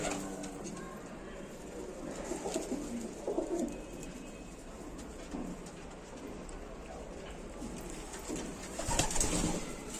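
Pigeons cooing softly inside a pigeon loft, low murmuring calls scattered throughout with a few rustles and a louder flutter near the end, fairly quiet overall.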